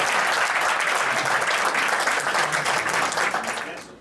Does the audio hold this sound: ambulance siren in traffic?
no